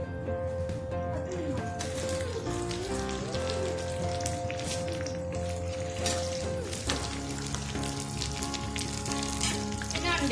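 Onions browning in hot oil sizzle steadily in a pan as curry leaves go in, a dense, continuous crackle with some stirring, close and fairly loud, with no one talking.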